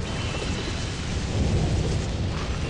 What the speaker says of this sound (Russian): Ну-ка, молния.